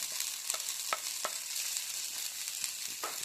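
Boiled potatoes being stirred into a masala frying in a pan, with a steady close sizzle and repeated scraping stirs, and no talking.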